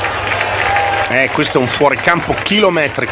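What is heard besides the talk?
audience applause after a home run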